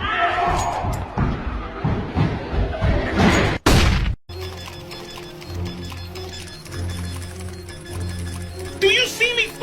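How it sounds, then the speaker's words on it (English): A flashbang grenade goes off in a shooter video game as a sharp, loud burst, then the sound briefly cuts out before game noise resumes; shouting voices fill the first part. "Throwing flashbang."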